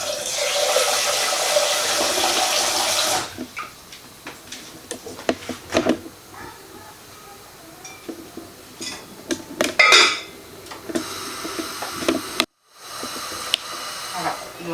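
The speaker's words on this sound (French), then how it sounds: "On jette la deuxième eau." Cooking water used for orange zest is poured out of a saucepan into a kitchen sink, first as a loud steady rush, then fading into drips, a faucet hiss and light clinks of pans.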